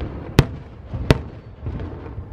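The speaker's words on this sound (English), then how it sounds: "let's look at the fireworks while we talk" Fireworks burst over Magic Kingdom at Walt Disney World, two sharp distant pops about a second apart, followed by softer rumbling over a low, muffled crowd and ambient noise.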